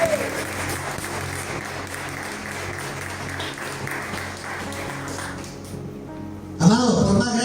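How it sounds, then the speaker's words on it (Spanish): A church congregation applauding during a Spanish-language sermon, a steady dense wash of clapping that swells and then briefly fades before a louder burst near the end. "denle un fuerte aplauso, aleluya"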